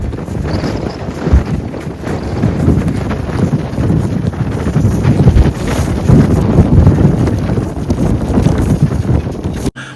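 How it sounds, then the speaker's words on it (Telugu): Strong, cold wind sweeps across a mountain site in Vietnam, buffeting the microphone with loud, continuous gusty roaring for the whole stretch before cutting off abruptly, with no voices. "ఎంత విపరీతమైన గాలి, ఎంత చల్లగాలి వీస్తుందో"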